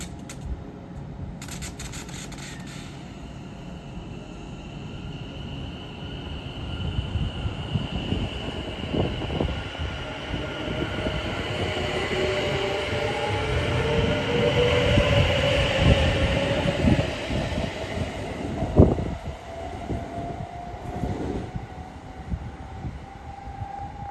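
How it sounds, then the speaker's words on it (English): A West Midlands Railway train pulls away from Stechford station, its motor whine rising in pitch as it gathers speed, with rumbling wheels and clanks over the rails at moderate distance and a sharp bang near the end. "about ready to depart is the late running 11:31 West Midlands Railway service"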